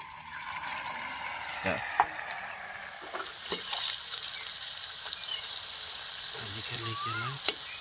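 Okra sizzles steadily in hot oil in a heated kadai while being fried crisp, a continuous bright hiss with a few clinks and stirring knocks in the pan.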